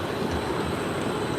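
An Edinburgh city-centre tram passes by, a continuous loud rumbling roar of wheels and motor that stays steady throughout, up close with street ambience and no talk.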